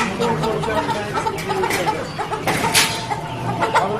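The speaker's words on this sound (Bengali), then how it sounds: "এখানে লাইভ চিকেন মুরগি।" Live chickens clucking at a halal live poultry market in New York City, many birds calling at once in a dense, busy, close chorus with occasional louder squawks.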